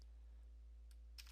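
A few quiet keystrokes on a computer keyboard while entering a command to fix a Dell OptiPlex small form factor PC, sparse clicks over a low steady hum.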